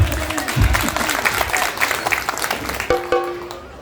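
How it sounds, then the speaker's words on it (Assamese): Audience applause at a spring festival drum performance by a student drummer, a dense wash of clapping from a crowd that fades as a sustained tonal note enters near the end. "আপোনালোকৰ হাত চাপৰিয়ে আমাক উৎসাহ দিয়ে। আৰু জোৰকে চাপৰি মাৰক।"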